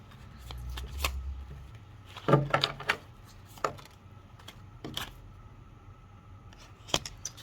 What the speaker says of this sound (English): So I will shuffle through these, see if anything else comes out.